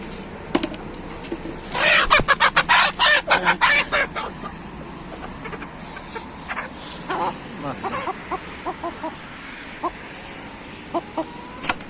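Chickens cluck and a rooster crows in a backyard poultry setting, with repeated bursts of clucking and calls through the middle, a dog faintly audible and people talking in between.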